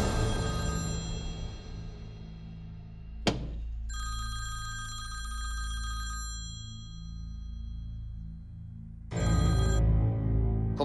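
A telephone rings out on an outgoing call, with repeated ringback bursts separated by quiet gaps and a low steady hum underneath; no one speaks.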